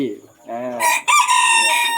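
A bantam rooster in Khon Kaen, Thailand, crows nearby, loud and clear, one long drawn-out call after a few brief softer clucking notes.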